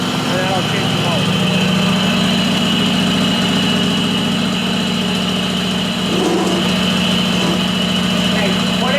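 DR Field and Brush Mower engine idling outdoors in winter, a steady close rumbling chug with constant vibration under occasional nearby talk.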